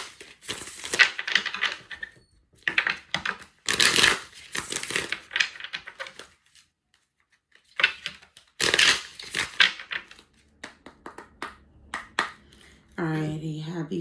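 A deck of tarot cards being shuffled: bursts of rapid riffling and crisp card flutter, separated by short pauses, fairly close, with a voice briefly heard near the end.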